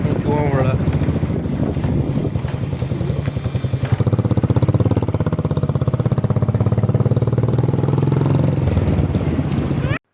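A motorbike engine runs steadily and close by for the whole stretch, with a constant low rumble and wind buffeting the microphone on a street outing.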